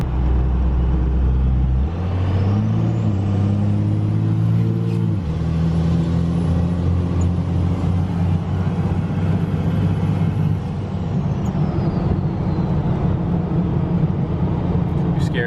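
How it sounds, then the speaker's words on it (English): A second-generation pickup truck's engine runs while driving, a loud, steady low rumble heard from inside the cab, rising through a couple of shifts early on before settling into cruising. "after just riding in the truck for like right at 5 minutes, this thing runs really good. It sounds good"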